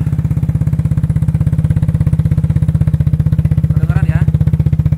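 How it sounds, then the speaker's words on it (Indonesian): A Vespa scooter with a Polini Cobra exhaust idles close and loud, its exhaust thumping in a fast, even pulse, with a brief voice faintly underneath near the end. "ini adalah bunyi dari knalpot Polini Cobra."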